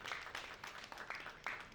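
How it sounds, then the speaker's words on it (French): Audience applause at a ceremony for a support fund in Mali, a steady crowd clapping at moderate distance with repeated bursts of claps. "Vos applaudissements, mesdames et messieurs."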